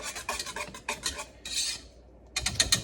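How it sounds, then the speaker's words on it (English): A whisk scrapes and clinks rapidly against a metal pot as cocoa is worked into a chocolate gelato base off the heat, in short bursts of close, busy metallic stirring with a brief pause near the end. "Nice and whisked in."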